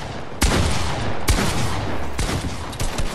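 Video game box fight with rapid gunfire and heavy pump shotgun blasts, loud and continuous, with sharp individual shots punching through the dense barrage.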